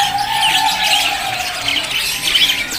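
Parakeets for sale at a bird market kiosk chirp and tweet continuously, with overlapping bright calls from many birds under a steady background hum.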